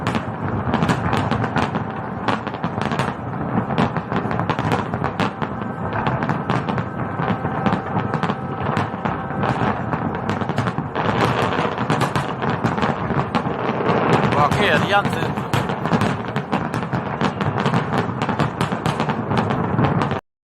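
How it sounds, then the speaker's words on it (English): Fireworks bursting over cruise ships, a dense run of sharp bangs and rumbling booms crowding one another, loud and continuous throughout with no talk. "Let's have some fireworks tonight."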